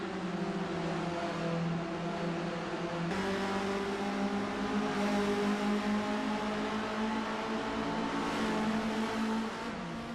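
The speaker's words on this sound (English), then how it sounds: "This is the Alfa Romeo Giulia Super Ti." Alfa Romeo Giulia Super Ti engine in the racing game Assetto Corsa, a steady droning exhaust note with rising and falling revs across several gear changes, heard alone at moderate level.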